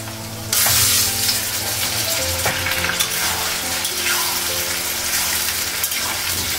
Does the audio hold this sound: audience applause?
no